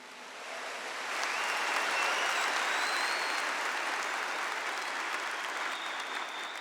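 A church congregation breaks into sustained applause during a Catholic sermon, a dense wash of clapping that swells within the first second and holds steady throughout, with no talking over it.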